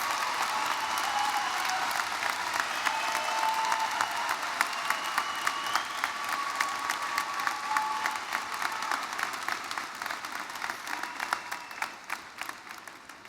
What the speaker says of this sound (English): Give her another round of applause to our keynote speaker, Deja Dyer.